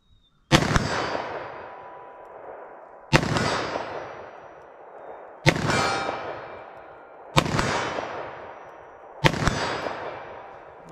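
.357 Magnum snub nose revolver fired five times at a steady pace, each loud sharp report followed by a ringing decay, outdoors at close range with no talk.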